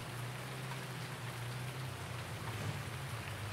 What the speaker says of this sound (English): it has literally been raining all day